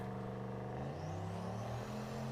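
A 616whp Aspen car running an old Colorado engine, loud and steady, its engine note climbing in pitch as it accelerates into a Home Depot bucket.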